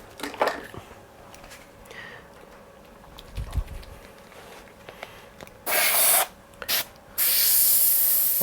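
An airbrush spraying opaque paint, with a few short hissing bursts near the end, the last one sustained, after a stretch of quiet small handling noises.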